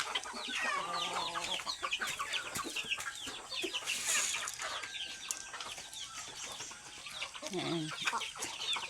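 Pet hens and roosters cluck and chatter close by in a backyard flock, a busy overlapping stream of short calls with a brief squawk partway through, at moderate loudness.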